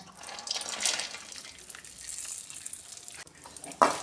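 Cashews and almonds roast in ghee in a pan for besan panjiri, giving a soft, steady sizzle with light stirring and a sharp utensil clatter at the very end.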